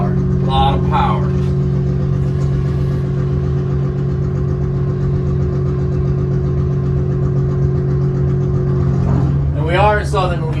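A 700 horsepower spud boat engine idles and runs in reverse off a ramp in southern Louisiana, a steady loud low drone held throughout, with brief voices near the start and end.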